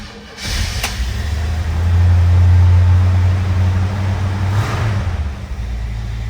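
A carbureted 1970 Chevrolet C-10 pickup engine cranks briefly on a cold start and catches, then runs at a loud, rough high idle that settles slightly lower, close by with no voices.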